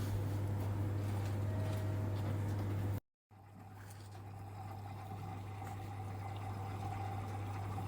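Water pours steadily into a coffee drip machine as a continuous soft splashing hiss over a low hum, broken by a brief silent gap partway through.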